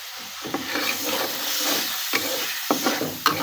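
Spice paste sautés in a pan with a hissing sizzle, and the spoon scrapes and taps against the metal at intervals, close and clear with no one speaking.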